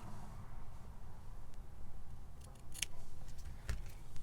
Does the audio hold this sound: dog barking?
no